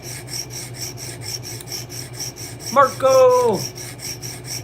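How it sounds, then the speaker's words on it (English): Rhythmic rasping strokes of a blade being sharpened repeat steadily and fairly close, with a brief spoken word cutting in near the middle. "Just doing some sharpening."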